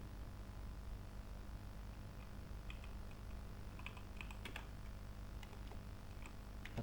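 Soft, sparse clicks of someone typing a message on a computer keyboard, faint and intermittent over a steady low room hum.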